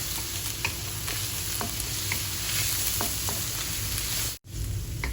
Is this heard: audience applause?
no